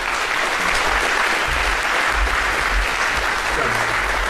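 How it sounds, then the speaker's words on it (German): A conference hall audience at the 35C3 hacker congress claps for two speakers introducing a talk on building a four-legged robot, a steady, dense wash of applause throughout, with faint low voices beneath. "lasst uns eine Runde Applaus spenden an unsere"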